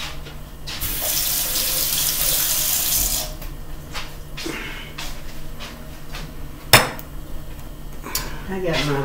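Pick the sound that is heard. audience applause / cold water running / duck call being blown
cold water running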